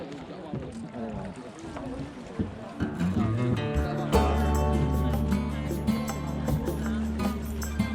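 A tour boat cruises among the islands of Ha Long Bay in Vietnam, its engine building into a steady, loud low drone with water sloshing and background voices.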